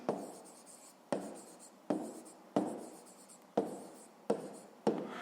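Pen strokes write numbers on paper during a fifth-grade math exercise, seven distinct scratchy bursts in a regular rhythm, each starting sharply and fading, close and fairly quiet with no talking.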